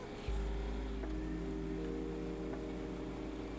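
Car in GTA V (FiveM) driving around the city, a steady engine drone that kicks in abruptly and holds a constant tone.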